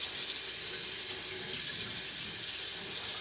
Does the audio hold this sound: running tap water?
yes